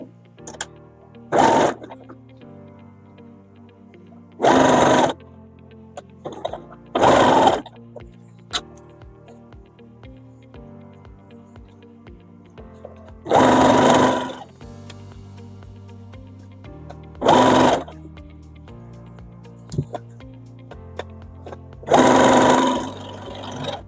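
A sewing machine stitches a fabric waistband onto pleated fabric in several loud, rapid bursts of whirring, separated by quiet pauses with faint handling clicks.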